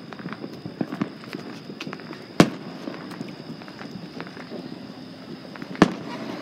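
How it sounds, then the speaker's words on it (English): Fourth of July fireworks going off in the distance, with two sharp booms several seconds apart over a faint, crackly background. "I'll show you guys a little bit of the fireworks. It was super cool."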